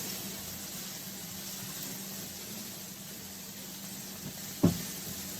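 Home fries sizzling steadily in a hot pan, a soft continuous hiss with one sharp clack of a utensil near the end.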